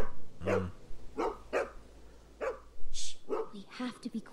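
A dog barks in the video game The Walking Dead Season 2, a series of single barks spaced about a second apart, close and clear, with game dialogue mixed in.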